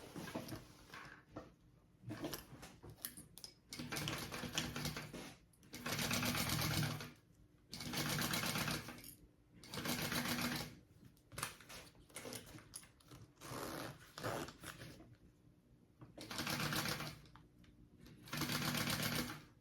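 A sewing machine bastes a pocket piece onto a crossbody bag, running in repeated bursts of steady stitching separated by short pauses, close and clear with no talk.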